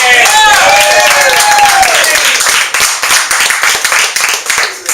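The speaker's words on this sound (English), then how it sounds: "Why don't we all give a really loud, obnoxious hand clap for Josephine Hannon!" Loud, dense hand clapping from a room full of people at a leadership development gathering in a house, with cheers and whoops over it, thinning out toward the end.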